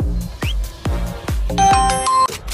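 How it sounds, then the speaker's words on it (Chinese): A phone rings from an incoming call, its repeated electronic ringtone pulsing in a steady rhythm before a layered melodic tone takes over, loud and close with no talking. "你大哥不接你电话， 你再打一个"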